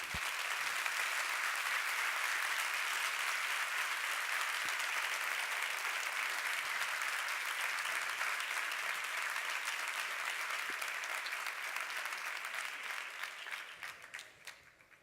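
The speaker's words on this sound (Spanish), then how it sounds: "un fuerte aplauso a estos miembros que tenemos aquí" Strong, sustained applause from an audience at a federal congress on social movements and trade unionism, a dense steady wash of clapping lasting about thirteen seconds before tapering off at the end.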